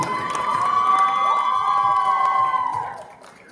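A crowd cheers and shouts, with children's voices among them, at a prize ceremony for a women's cricket premier league tournament, in a loud continuous burst that fades at the end.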